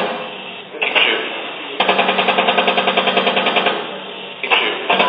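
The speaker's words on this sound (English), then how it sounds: "Keep shooting." Sustained automatic fire from a helicopter-mounted gun, a rapid, evenly spaced burst of loud shots lasting several seconds, flanked by shorter loud bursts and heavy rotor-like noise throughout.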